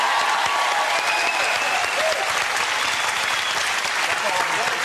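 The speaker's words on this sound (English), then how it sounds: "Give them a great round of applause" A television game-show studio audience bursts into sustained, loud applause that holds steady and dense throughout, with a host's voice faintly over it.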